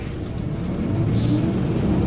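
Inside a bus travelling to Valletta, Malta, a steady low engine hum and road rumble drone on without a break.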